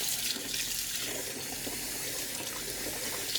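Water runs steadily from a tap into a basin being filled for washing wool, a continuous hissing gush at moderate level with no break and no voices.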